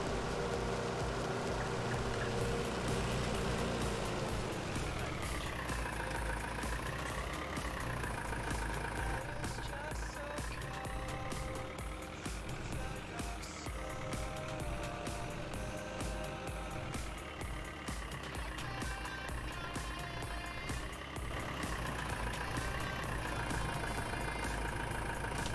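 A tractor engine runs continuously in Farming Simulator 19, a steady mid-pitched drone with wavering pitch as the load shifts, alongside background game music and faint clatter.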